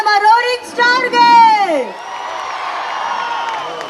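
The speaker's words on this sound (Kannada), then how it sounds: "ದೊಡ್ಡ ಚಪ್ಪಾಳೆ ನಮ್ಮ ರೋರಿಂಗ್ ಸ್ಟಾರ್ಗೆ" A crowd at a stage event cheers, whoops and applauds for actor Sri Murali, loud near shouts and whistles at first, then settling into a steadier wash of distant clapping and crowd noise.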